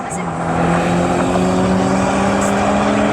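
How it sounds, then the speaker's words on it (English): A Toyota Starlet Glanza with a 1300 cc factory turbo engine drag races on an airfield strip, its engine a loud, sustained, high-revving roar passing close by. "Up against is Ryan Guppy with the little Toyota Starlet Glanzer, so 1300 turbo motor from the factory"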